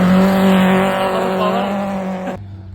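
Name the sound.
modified VW Polo GT rally car racing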